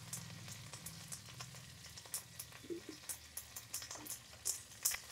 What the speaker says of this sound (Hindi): इसको फ्राई कर रहे हैं। अब ये जो कड़ी पत्ते थे इसको भी डाल दिया